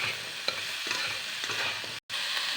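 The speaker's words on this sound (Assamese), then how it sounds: "এইখিনি 5 মিনিটমান লৰাই থাকিব লাগিব।" Food is stirred in a hot pan while cooking an Assamese drumstick dish. Steady, close sizzling continues with soft scraping strokes and one very brief break near the end.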